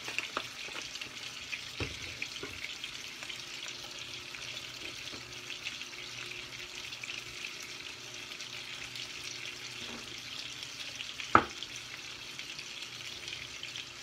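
Chicken tenders in a hot pan give off a steady, close sizzle and crackle, with scattered scraping stirs and one sharp clink near the end. No talk.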